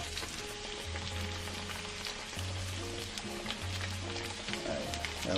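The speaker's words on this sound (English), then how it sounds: "let that fry up a bit" A pork cutlet for tonkatsu fries in hot oil with a steady, even sizzle close by, alongside a low background hum.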